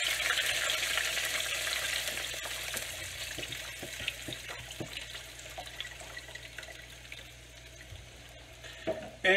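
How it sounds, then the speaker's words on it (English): Chicken broth hisses and sizzles loudly in a hot pan, fading gradually with scattered crackles and pops, no voices. "You put your your chicken broth in. gonna sizzle a little bit."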